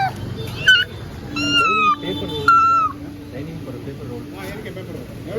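A kitten meowing in a few short, rising calls near the start and middle, fairly close, over a steady background hum with people talking nearby.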